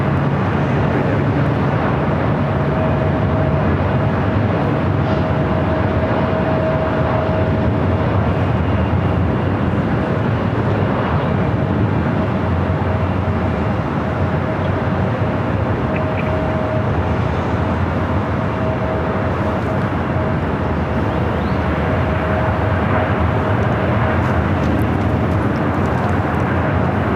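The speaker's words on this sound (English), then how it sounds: "South side was Delta Airlines Flight 2154 heading to New Orleans at 737-800" A Delta Airlines Boeing 737-800 takes off at LAX, its steady loud jet roar holding evenly throughout with a faint constant tone running underneath.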